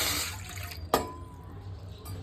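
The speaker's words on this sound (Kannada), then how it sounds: "ಗ್ಲಾಸಲ್ಲಿ ಮೂರು ಗ್ಲಾಸ್ ಅಷ್ಟು ನೀರು ಹಾಕೊಳ್ತಾ ಇದ್ದೀನಿ" Water is poured from a glass into an empty pan while Maggi noodles are being made, a low steady wash with one short, sharper splash midway.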